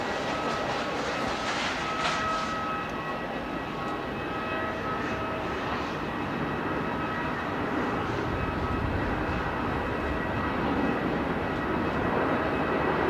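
Jet airliner engines roaring steadily at Melbourne Airport, a broad continuous rumble with a constant wash of noise throughout, fairly distant and without speech.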